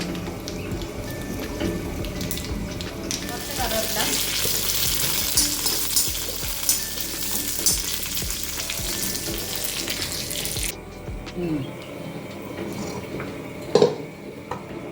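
Dried red chillies frying in hot oil for Kerala-style puli inji, with a loud continuous sizzle and some stirring and pan clatter that cuts off abruptly, followed by quieter kitchen knocks.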